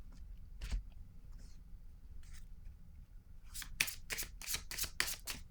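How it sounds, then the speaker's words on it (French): A deck of cards is shuffled close by: a few soft riffles first, then a quick run of sharp, crisp riffle bursts in steady rhythm, clear and fairly loud against a quiet room. "Je vais piger une carte sur celle-ci."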